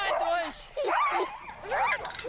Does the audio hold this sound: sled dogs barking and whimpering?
yes